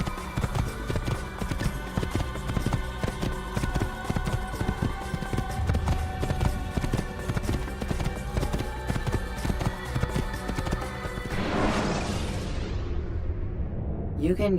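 In Assassin's Creed, a ridden horse's hooves clip-clop in a steady rhythm under someone talking, and a loud whooshing burst of sound cuts in near the end.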